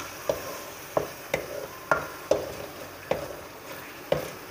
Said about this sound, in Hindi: अब मैं इसको एक से दो मिनट तक फ्राई करूंगी मज़ीद।